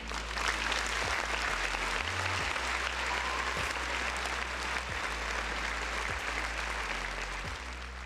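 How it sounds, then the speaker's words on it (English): Dense, continuous applause fills the whole stretch, loud and steady like a large audience clapping, with no talking over it. "Another round of applause for the folks in the chat"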